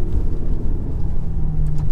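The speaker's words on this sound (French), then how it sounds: "on sent à chaque fois qu'on passe un rapport, il y a cet à-coup un peu de lenteur" GT car engine in Gran Turismo Sport, a loud, close, low droning rumble held steady through a gear shift, with no voices.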